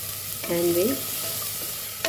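Mutton trotters with turmeric powder are sautéed in a pan, giving a close, steady sizzle with a brief scrape of stirring, and no voices.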